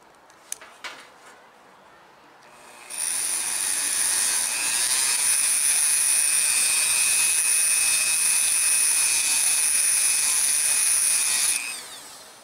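Power tool polishing the inside of a battery terminal: a few light taps first, then a loud, steady high-pitched whine that runs continuously for about nine seconds and stops abruptly, with no talking.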